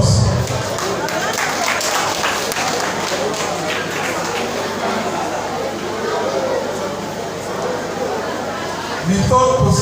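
Audience applause at a founder's day gala award night: a dense, sustained patter of many hands clapping for nearly ten seconds, with crowd chatter mixed in and a louder swell right at the end.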